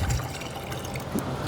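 Two gallons of deionized water pour into a bucket for a car wash, a steady low splashing flow with slight sloshing and no talking.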